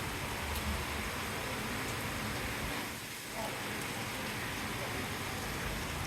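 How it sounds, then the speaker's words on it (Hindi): Dense, steady heavy rain in Karachi hisses all around with a broad wash of noise, briefly dipping in the middle before returning to a constant downpour. "बहुत तेज बारिश हो रही है भाई, जबरदस्त"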